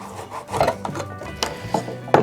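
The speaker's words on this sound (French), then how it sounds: "je vais rattaquer la découpe" Hand cutting of wood to make a cartridge holder: a few irregular rasping, scraping strokes with short sharp bursts, close and moderately loud, with no talk.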